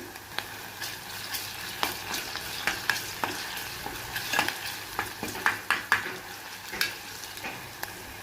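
Onions frying with ginger-garlic paste in a pan, stirred with repeated scraping clicks of the spoon over a steady close sizzle, no voices.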